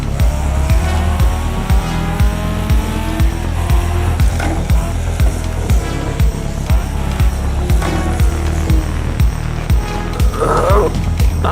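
A race car in a VR racing game runs off the track, its engine droning loudly and steadily under a string of regular thumps and rattles as it bounces over rough ground.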